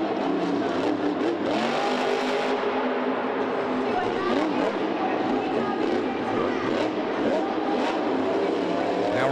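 A freestyle motocross motorcycle engine at a 2010 event, revving and surging steadily in a continuous loud drone, with commentators' voices running underneath.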